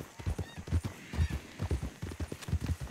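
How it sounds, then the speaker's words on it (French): Hooves of an albino horse in a western video game clip-clop in a steady, loud rhythm, with faint game noise in the background. "C'est un cheval albinos"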